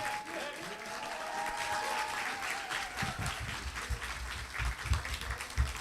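An audience at a university commencement ceremony claps in sustained, dense applause after a Hapkido Club performance, steady and fairly loud throughout with a faint voice early on.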